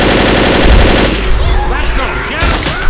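Rapid automatic gunfire from Left 4 Dead rattles loudly and steadily through the first second, then continues as sparser shots and effects under excited overlapping voices.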